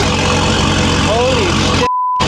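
A Mercedes SLS AMG GT3 race car engine roars loudly and continuously up close, with a brief pure tone before cutting off abruptly near the end.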